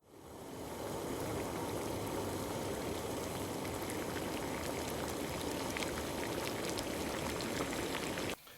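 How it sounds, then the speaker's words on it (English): Croissant dough pieces frying in hot oil, a dense, steady crackling and bubbling hiss that starts right away and carries on evenly, fairly quiet and close, with no talking. "So we got the hot oil, in they go, and you'll see them bubbling."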